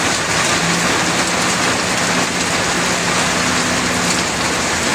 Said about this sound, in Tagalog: Kita nyo ang ulan oh. Tumatakbo ang ulan, umaanggi.